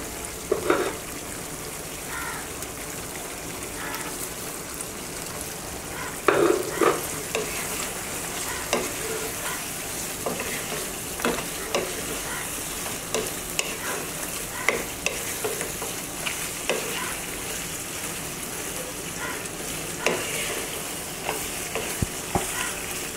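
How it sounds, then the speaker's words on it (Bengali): Chicken meat stir-fried for Bangladeshi-style deshi chicken kosha sizzles steadily in a pan, with repeated scraping strokes of a spatula over a continuous frying hiss, close and without talk. "এই মাংসটা আমি প্রায় আধা ঘন্টার মতো একটু কষিয়ে নেব"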